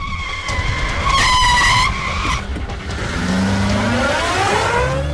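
A car skids hard to a stop in a Telugu film scene, tires squealing loudly over roaring engine noise for about two seconds before the screech trails off beneath a lower engine rumble.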